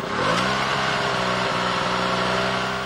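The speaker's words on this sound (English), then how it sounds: "the sound of generators." Power generators run outside shops on a Bangalore street during load shedding, giving a steady, continuous mid-pitched engine drone with a harmonic hum, loud and close, under general street traffic and bustle.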